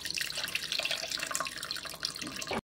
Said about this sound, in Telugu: తర్వాత చింతపండు పులుసు పోసుకుంటాను.